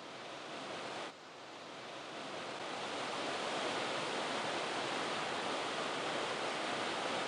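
Large waterfall roaring as a dense, even rush of falling water at a fishing spot, loud and continuous and swelling slightly after a brief dip, with no talking.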